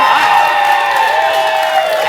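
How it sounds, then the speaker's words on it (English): A studio audience at a live music talk show claps and cheers in a brief, continuous burst, with a bright ringing tone sustained underneath. "One more round of applause, I believe."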